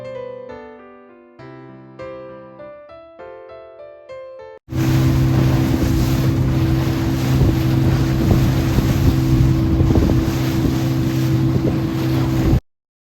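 Loud, steady roar of a motorboat crossing the open sea toward St. Mary's Island, with engine drone and heavy wind buffeting the microphone, beginning abruptly after a few seconds of music and running continuously to the end.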